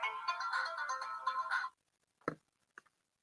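A phone ringtone plays a bright melodic tune for about a second and a half, then stops abruptly, followed by a couple of short clicks or knocks, close by and clear.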